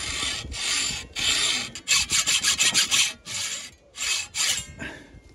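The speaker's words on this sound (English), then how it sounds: "I'm going to use a hacksaw rather than the angle grinder" Hacksaw cutting by hand along a marked line on a battery box mount for a Transit Connect camper, with close, steady rasping back-and-forth strokes, longer pulls at first, then a quicker run of short strokes.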